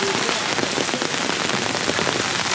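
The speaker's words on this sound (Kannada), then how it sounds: "ಮಳೆ" Rain pours steadily, a dense, loud, continuous hiss of drops striking surfaces all around, with no pauses.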